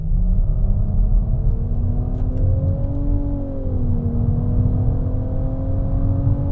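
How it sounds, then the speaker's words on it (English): A Nissan Rogue engine revs steadily toward redline, a loud, continuous drone with the pitch climbing and then holding high, heard from inside the cabin with no talking over it. "Here, I'll take it up to red line again."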